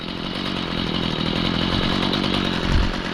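A Stihl FS45 weed trimmer, recovered from a dumpster with its carburetor cleaned and rebuilt, runs close up with a loud, steady, buzzing two-stroke drone, rising slightly toward the end.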